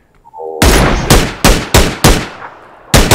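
Loud close gunfire in the game PUBG, six sharp heavy shots in an irregular rhythm, each followed by a short decaying tail, with no other sound between them.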